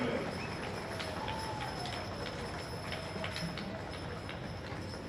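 Steady clip-clop of hooves from several draft horses walking in a show ring over a busy outdoor crowd murmur, with a constant hiss of background noise.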